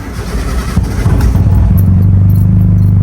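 Suzuki Cappuccino's small engine starts and settles into a steady, loud idle on a dyno, a low throbbing hum running alone and close.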